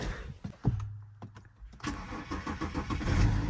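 A BMW engine left unused for a long time cranks a few times with clicks and pauses, then catches and settles into a steady close idle, heard alone.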